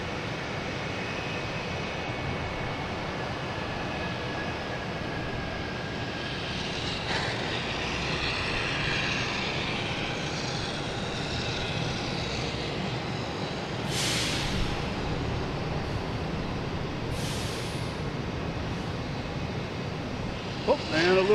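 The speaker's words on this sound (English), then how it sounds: "Is Air France coming in from Paris." An Air France Airbus A350 arriving from Paris at Boston Logan gives a steady, distant jet roar that holds evenly for about twenty seconds, with a few faint higher hisses near the end.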